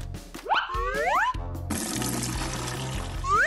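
Water running while clothes are washed, a steady hissing gush from a tap mixed with cartoonish rising boing-like effects at the start and end; close and fairly loud.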